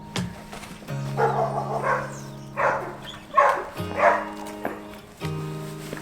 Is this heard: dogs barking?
yes